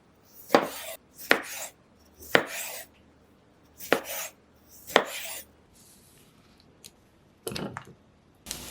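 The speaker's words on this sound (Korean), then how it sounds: "방울토마토는 3등분으로 잘랐어요." A knife chops cherry tomatoes into thirds on a cutting board, with about eight sharp, distinct cuts in an uneven rhythm, close and clear against a quiet kitchen background.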